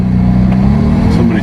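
A Carver One three-wheeled tilting car's Daihatsu Copen 660cc four-cylinder turbo engine hums loud and close with a steady low drone and slight rises, heard from on board with people talking over it.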